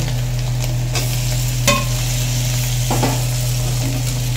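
A spoon stirs ginger paste masala frying in a pan for a homestyle mutton curry, a steady sizzle under a low hum with a few scraping knocks against the pan.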